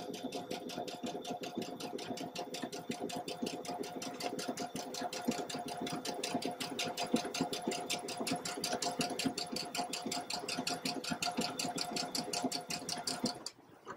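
Sewing machine stitching chenille bias strips onto fabric, a fast, even, close mechanical whir with steady needle clatter running continuously before stopping at the end, with no talking.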